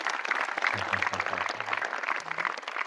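Steady applause from an audience of Islamic boarding-school students and teachers, a dense wash of clapping with no voices over it, holding at an even level throughout.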